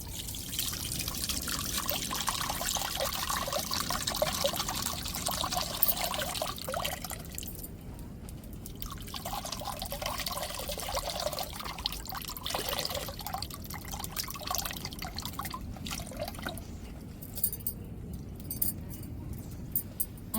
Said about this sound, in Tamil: இப்போ புளியை கரைச்சி வச்சுருக்கோம் நம்ம இருத்து எடுத்துக்கிடுவோம்